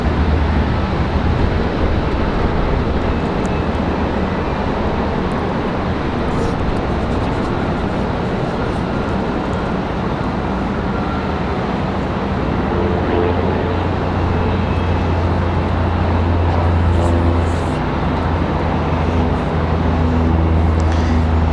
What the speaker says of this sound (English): So our next arrival is going to be Republic Airways at 4658 coming in from JFK.